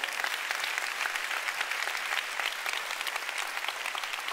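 Steady, dense applause from a church congregation fills the room, many hands clapping together at an even level for several seconds with no break.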